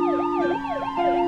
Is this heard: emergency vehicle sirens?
yes